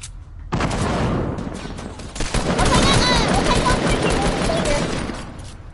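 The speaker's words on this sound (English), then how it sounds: "I'm just wrecking everyone with a minigun" A minigun in a video game fires loud, dense, unbroken rapid bursts that blend into one roaring rattle lasting several seconds.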